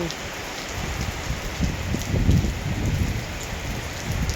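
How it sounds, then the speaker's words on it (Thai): Steady rain pours down with a dense, continuous hiss and patter of drops hitting surfaces nearby, loud and unbroken throughout. "ฝนตกแล้วพี่น้อง"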